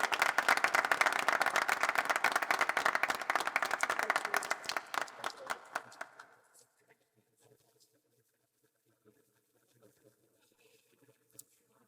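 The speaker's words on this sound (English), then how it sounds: "Please give her a round of big applause when she comes on board on the stage" Audience applause at a 2023 college commencement ceremony as a student speaker comes to the stage: dense, loud clapping from a crowd for about six seconds, then thinning to scattered claps and near quiet.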